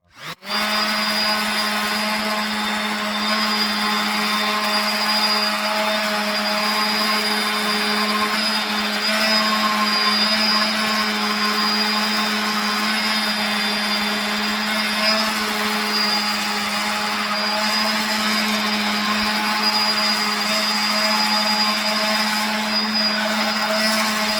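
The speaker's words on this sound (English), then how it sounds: "Nothing fancy, just palm sander, 40 grit." A palm sander loaded with 40 grit sandpaper carves wood, a loud steady whine and buzzing hum running unbroken throughout, close by with no talk.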